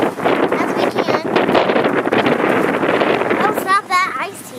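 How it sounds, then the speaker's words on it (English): Strong wind blowing outdoors after a snowstorm, a steady loud rush buffeting the microphone throughout, with a voice and an adult talking over it near the end. "Ooh, it's windy."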